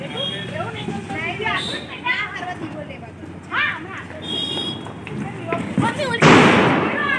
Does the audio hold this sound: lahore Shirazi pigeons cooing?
no